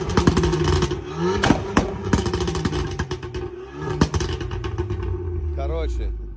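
Exhaust of a Fiat Punto with a 1.4 engine, close and loud, revving and burbling with sharp bursts and clatter while someone talks over it.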